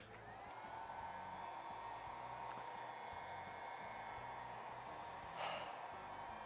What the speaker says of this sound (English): Now it's the boring bit, where it's just me heating up an iPad screen.